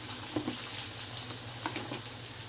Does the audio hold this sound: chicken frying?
yes